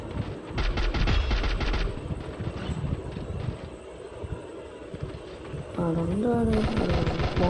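A mobile shooter game plays rapid automatic gunfire and a grenade blast, dense crackling bursts that open loud, ease off midway, then return, while a person talks over the action.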